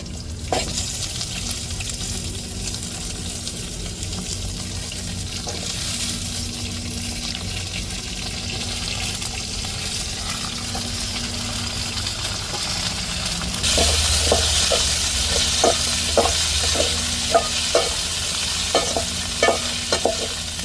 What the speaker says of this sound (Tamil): இப்போ வெண்டைக்காவை நம்ம அப்படியே போட்டு வதக்கிடுவோம் எண்ணெயிலேயே